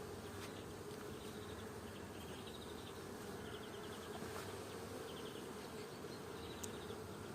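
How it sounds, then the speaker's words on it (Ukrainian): Honey bees hum inside an open beehive during a spring colony inspection, a dense, steady buzzing close up and continuous, with occasional faint clicks from handling the frames and no talking. "Ось сіренька бджолка ходить."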